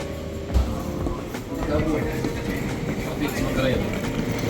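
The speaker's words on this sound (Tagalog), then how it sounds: "Hala, andyan na yung train." A train pulls into a station in Morocco, its steady rumbling rail noise running throughout beneath a busy platform crowd, with people talking nearby.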